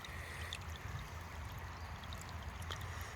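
Water rushing steadily over a Dream Mat sluice as it washes light sand through, a quiet, continuous, low stream-like wash with faint trickles and splashes on top.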